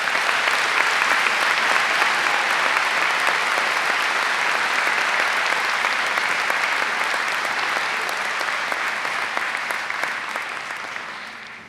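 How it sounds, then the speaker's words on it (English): A commencement audience at the 2024 Marian University undergraduate ceremony breaks into dense, sustained applause for the graduating class, holding steady for about ten seconds before beginning to taper off. "Please join me in a round of applause for the class of 2024."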